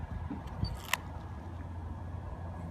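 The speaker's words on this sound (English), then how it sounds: "always get in the habit, if you got one of these cameras, winding film advance this way." An antique Kodak Brownie 2C camera has its film advance wound, giving a couple of faint, quick mechanical clicks against a quiet background.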